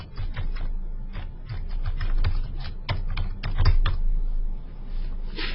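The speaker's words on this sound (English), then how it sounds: "I'm going to type in kilometer markers." Rapid typing on a computer keyboard, a steady run of close, crisp keystrokes with no talking.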